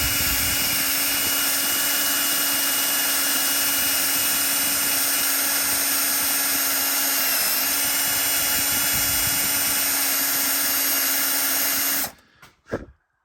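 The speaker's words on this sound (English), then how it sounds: "I'm just going to take a small drill, work my way through the one side." A small drill bit grinds steadily through a broken cotter pin on a tie rod of a Honda Element, a loud continuous high whine for about twelve seconds before stopping abruptly, followed by a couple of metallic clinks.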